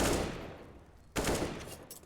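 Gunfire in CS:GO during a Wingman tournament match: a burst of shots at the start, then after a brief lull another sharp, loud burst.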